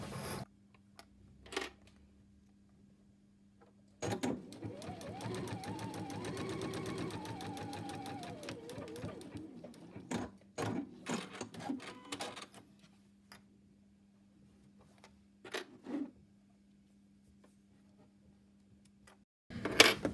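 A sewing machine stitches a line on a fabric tie, a fast rattling run of several seconds followed by short stop-start bursts and clicks, close and fairly quiet over a faint steady hum.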